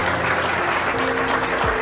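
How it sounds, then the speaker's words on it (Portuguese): Wedding guests at a church ceremony applaud loudly after the vows, a dense, continuous roar of clapping with a low tone and hum underneath. "Salva de palmas."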